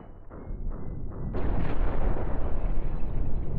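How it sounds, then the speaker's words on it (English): A torpedo explodes in the space combat game Cosmoteer, heard as a few thudding pops followed by a loud, sustained rumbling roar that fills the rest of the clip. "Here comes a torpedo."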